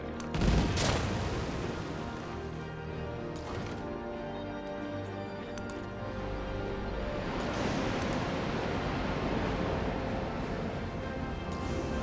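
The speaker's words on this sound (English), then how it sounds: "I heard a big bomb go off" A bomb exploding in the strategy game Civilization VII, a sharp loud blast at the start that trails off into a long rumbling, crashing tail of debris and rolling noise with no speech.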